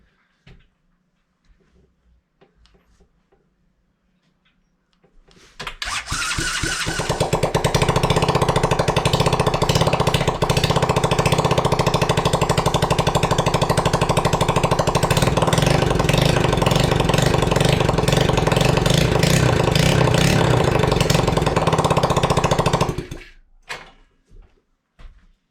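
A small engine fitted to a kids' four-wheeler catches after a few cranking sputters and runs loud and steady with a rough, rattling idle, then cuts off. Quiet, near handling noises come before the start and after the engine stops.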